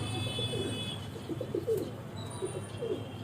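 A Lalsira pigeon coos softly nearby, with a series of low, repeated throaty coos over quiet background hiss.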